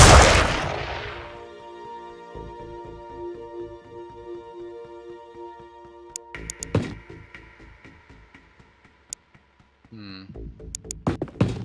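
Gunfire from the strategy video game Xenonauts: sharp synthetic shots and impacts, a rapid burst early on, then scattered single cracks and thuds with tonal game effects between them, clean and close.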